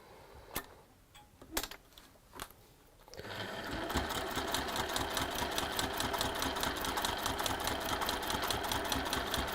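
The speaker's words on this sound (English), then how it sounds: "So we're sewing 2 blocks together in exactly the same way." A sewing machine joins two quilt blocks, starting after a few scattered clicks and handling noises and then running in a fast, steady mechanical rattle of regular stitching that continues to the end.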